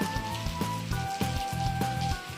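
Rain falls steadily outdoors, a soft continuous patter with scattered louder drops hitting a surface nearby, no voices.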